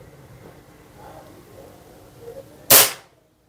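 A single sharp crack from a Nova Vista Cobra PCP air pistol, loud and close, follows a few seconds of quiet room noise and cuts off quickly.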